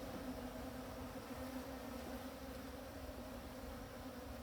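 A honeybee colony hums inside an open beehive, a dense, steady drone of many wings that holds evenly throughout with no pauses or talking.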